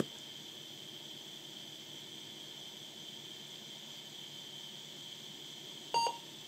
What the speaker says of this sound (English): Yay, we get a beep from a PC speaker.